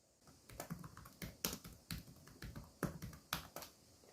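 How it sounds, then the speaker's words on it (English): Keys clatter on a Dell XPS 15 (9530) laptop keyboard in a quiet room, a close series of light, crisp taps in uneven bursts with no voices. "Now it's time for a little keyboard sound demonstration."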